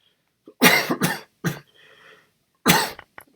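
Several sharp coughs from one person close to the mic during chess commentary, in two bursts with a short quiet throat sound between.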